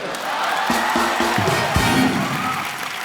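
Studio audience on the Kapil Sharma Show cheering and shouting in a loud, steady crowd roar, with a short run of tonal musical stabs partway through.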